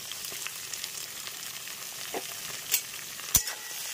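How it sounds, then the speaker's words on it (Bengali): Chicken frying in a pan with onions, turmeric and salt, a steady soft sizzle with light stirring and two brief scraping clinks near the end, no talking. "এটাও পেঁয়াজের সঙ্গে ভাজবো।"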